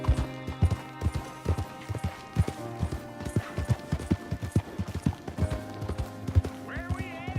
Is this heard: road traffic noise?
no